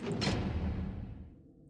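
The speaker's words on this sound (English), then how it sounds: "that's the door noise from Five Nights at Candy's" Door sound effect from the video game Five Nights at Candy's: a single heavy whooshing thud at the start, decaying into a low rumbling tail over under two seconds, with no talking.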